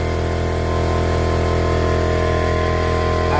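A loud, steady motor drone from a Harbor Freight Fortress air compressor runs continuously and close by, with a constant hum and no pauses or voices.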